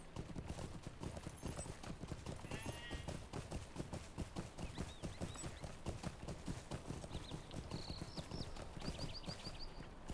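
Horse hooves gallop in a steady rapid clip-clop throughout in the Lord of the Rings Online video game, with faint chimes and game effects mixed in at low level.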